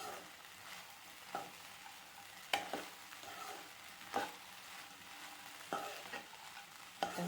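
Sabudana khichdi being mixed in a pan, with soft scraping stirs and a few sharp spoon knocks against the pan spaced every second or so over a quiet background, and no voices.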